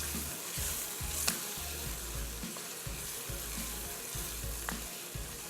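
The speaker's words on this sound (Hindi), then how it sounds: "मज़ीद भूनेंगे।" Beef fries in a pan for nalli pulao, giving a steady sizzle with a few soft stirring scrapes and clicks, close and moderately quiet, no talking.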